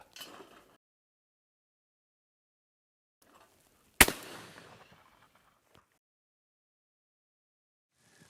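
A shotgun fires once at a rising teal clay target, a sharp, loud single blast with a brief echoing decay, surrounded by near silence and faint rustles.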